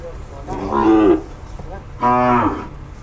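Two long, loud moos from small female cattle kept in a longan orchard in Chiang Mai, Thailand, each call lasting about half a second with a pause between, close by and with no talk over them.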